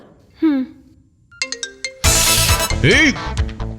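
A short electronic ringtone plays in beeping tones, then loud voices and music-like sounds take over, all close and loud.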